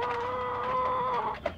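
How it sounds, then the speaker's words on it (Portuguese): A hen penned apart in a gamefowl coop gives a steady, close-up vocalization that holds for over a second, then ends with a short sharp squawk. No other sound or voice competes with it. "Essa galinha aqui é a Shakira."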